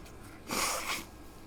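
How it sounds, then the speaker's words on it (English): A single short, forceful nose blow, a breathy honking rush of air lasting about half a second, close and quiet. "I'm sorry for blowing my nose."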